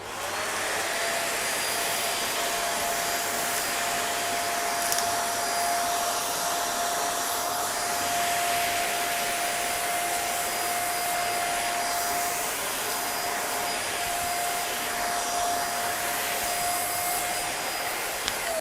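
A Xiaomi Deerma DX800s stick vacuum fitted with a stiffer scrubbing brush cleans a sofa, its motor holding a loud, steady high whine with a faint tonal hum and no speech throughout.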